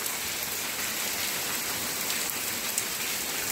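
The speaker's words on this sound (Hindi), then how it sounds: "चटाचट बारिश हो रही है।" Heavy rain pours steadily and loudly on surfaces, a dense, continuous hiss with no pauses and no voices.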